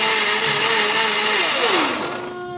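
An electric blender whirs through a chia seed smoothie, a loud, close, steady whine that drops in pitch and winds down toward the end, with no talking.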